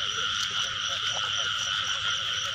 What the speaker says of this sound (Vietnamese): Mới thấy ếch cặp nha bạn